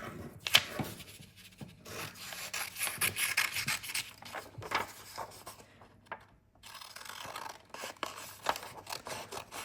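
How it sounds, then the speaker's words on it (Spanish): Fabric scissors cutting along the dart of a skirt, a series of close, crisp snipping and rustling strokes with short pauses between cuts, no talking. "Tengo que cortar el eje de la pinza hasta el vértice de la pinza."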